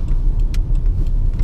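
A diesel car engine revved hard during intake and turbo cleaning, a loud steady low rumble close by without talk.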